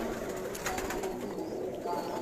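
Birds coo in a Karachi high-flyer pigeon loft, a soft continuous cooing murmur held steady at moderate level with faint background clatter and no talk over it.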